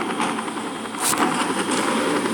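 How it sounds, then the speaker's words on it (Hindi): Helicopter engine drone in the zombie shooter game Into the Dead, a steady loud whirring rotor and engine rumble that swells briefly midway, with no talk over it. "ओ हेलीकॉप्टर"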